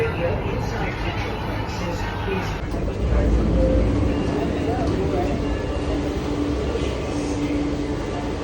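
Continuous rumble and rattle of a metro train in motion toward Kashmere Gate, India, heard from inside the carriage, with people talking over the steady noise.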